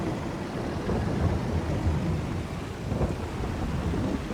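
Steady rain with low rumbling thunder in the Farming Simulator 22 video game, a continuous loud wash of rainfall under deep rolling thunder throughout, with no voices.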